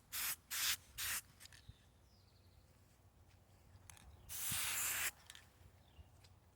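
Three short hissing bursts from a can of gold spray paint, followed by a longer steady spray a few seconds later. Quiet between bursts.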